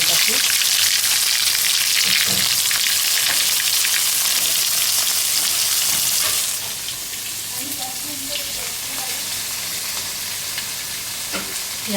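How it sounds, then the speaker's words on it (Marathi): Cumin and mustard seeds splutter in hot oil, a loud, dense crackling sizzle close up that eases slightly partway through while stirring continues underneath. "आपण आधी जिरं मोहरी तडतडून घेऊ."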